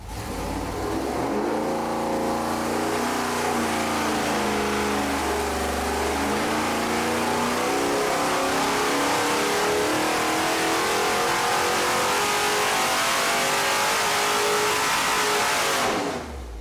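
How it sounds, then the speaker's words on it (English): A 350 cubic inch engine of around 400 horsepower revs steadily and loudly through a dyno pull, its pitch climbing continuously for about sixteen seconds before cutting off, with no talking. "And this is a pretty typical engine, though. It's a 350 cubic inches, around 400 horsepower."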